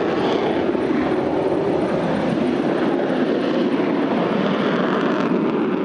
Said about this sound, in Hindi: रात के अंधेरे में टर्बो इंजन की यह आवाज मीलों दूर तक